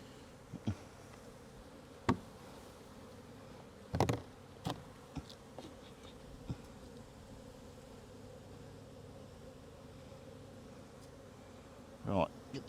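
Honeybees hum during a hive inspection on a Varroa mite check after Bayvarol treatment. The buzzing is a steady, quiet drone with a few sharp clicks and knocks from handling the hive.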